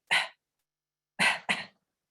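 A voice imitates a cough: one short harsh cough, a pause, then two quick coughs in succession, close and loud.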